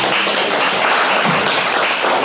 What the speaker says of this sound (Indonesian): Tepuk tangan dong untuk Kristus.